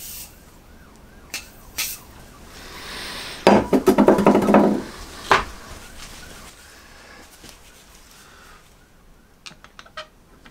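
A short burst of WD-40 sprayed inside a piston gudgeon pin from a Triumph T140 Bonneville, a close hissing spray of a couple of seconds rising out of quiet workshop background with a few clicks and knocks.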